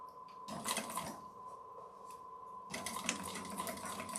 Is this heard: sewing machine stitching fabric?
yes